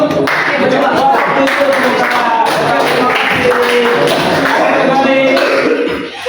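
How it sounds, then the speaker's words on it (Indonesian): Classroom applause for a student group, a dense, steady clatter of many hands lasting about six seconds, loud and continuous with some coughs and murmuring mixed in. "tepuk tangan untuk kelompok berapa itu?"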